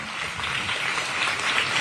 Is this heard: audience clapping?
yes